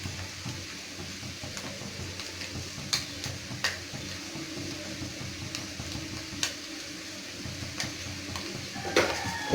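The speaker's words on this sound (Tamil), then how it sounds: "நல்லா கலக்கிப்போம்." Egg masala with a pinch of salt being stirred in a pan, with soft scraping and occasional sharp clinks of a utensil against the metal over a faint background sizzle, close and steady with no talking.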